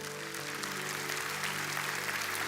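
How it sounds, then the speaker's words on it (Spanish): A church congregation applauding, steady dense clapping from many hands that fills the whole stretch at moderate volume, with a faint voice underneath. "Y si alguien lo cree, que le dé un aplauso al Señor."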